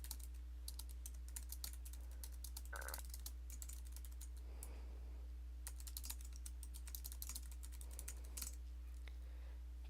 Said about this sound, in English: I'm going to type out your first question.